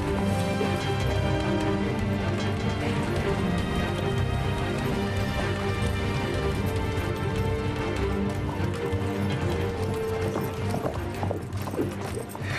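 Steady clopping hooves of a horse moving at pace, loud and continuous, mixed with a busy, dense layer of other sound throughout.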